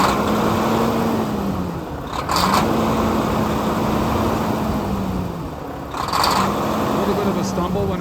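A 2016 Volvo VNL670 truck's D13 diesel engine idles steadily in cold weather with a low, constant rumble, while a high whine rises and falls twice in the background.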